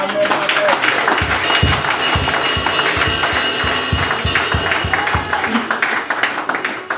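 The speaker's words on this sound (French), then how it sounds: "On va applaudir mon Dieu." A church congregation claps in a steady, rhythmic beat that runs loud and continuous throughout, mixed with voices and a dense wash of background sound.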